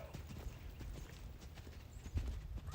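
A horse canters in a reining roll back, its hooves thudding in a quick rhythmic beat on soft ground, fairly close and moderately loud, with no speech.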